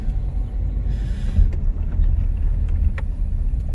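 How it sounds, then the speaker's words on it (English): A car drives up toward Chestnut Grove Cemetery in Ohio, a steady low engine and road rumble holding throughout with light wind buffeting on the microphone and no talk. "As you see here, we're driving up to it as we speak."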